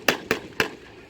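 Three sharp, close bangs ring out in quick succession from heavy machine guns during a WWII battle reenactment with half-tracks, each shot a crisp crack with a short tail, followed by a brief lull.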